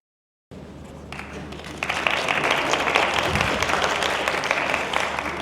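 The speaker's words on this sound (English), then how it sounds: "a warm round of applause" A TEDx audience bursts into steady applause that swells after a moment and holds loud and dense, many hands clapping together with no talking.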